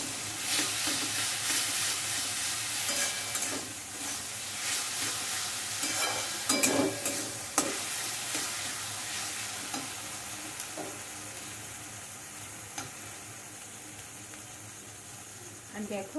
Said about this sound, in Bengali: আলুগুলো দিয়ে আমার কিছু মিনিট নাড়াচাড়া করব।